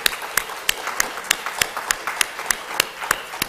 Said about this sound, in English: So I'm just going to give you one little round of applause here for that.